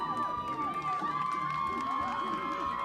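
A large crowd at a college softball championship cheers and claps, a dense wash of voices with a steady tone running through it and some overlapping speech.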